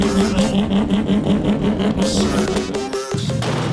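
A Mazda RX-7 with a six-rotor engine and straight-pipe exhaust idles and blips loudly up close, a harsh, rapid pulsing drone with short revs and a brief cut near the end.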